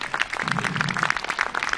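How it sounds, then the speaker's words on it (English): An audience claps for a performer at a brass band show, a dense, steady patter of many hands close by that carries on without letting up. "Can we have a big round of applause for Loz"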